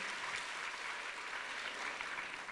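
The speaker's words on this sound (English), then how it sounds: "that deserves a round of applause, of course." Audience applause fills a hall during a discussion event, a dense, steady wash of clapping at moderate distance, without talk over it.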